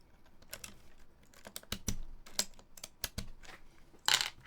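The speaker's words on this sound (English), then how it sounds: "we gotta pull off some keycaps" Keycaps pried one by one off an older mechanical keyboard, a run of sharp plastic clicks and snaps at irregular intervals, close and crisp with a louder rattle near the end.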